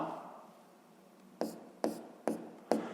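Chalk or marker strikes a classroom board during a sixth-grade maths lesson as vertex letters are written: four sharp taps and short strokes, evenly spaced, close and distinct over a quiet room hum.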